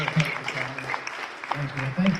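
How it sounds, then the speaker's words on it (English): An audience at a Summit County political convention applauds, a steady spread of clapping of moderate loudness with voices mixed in. "Can you all give her a round of applause?"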